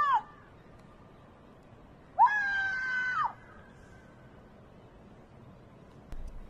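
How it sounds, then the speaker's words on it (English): A person screams during a phreatomagmatic eruption of Popocatépetl volcano, two high wailing cries, the first brief and the second held for about a second, loud over a faint windy background. "what is that screaming going to do for you?"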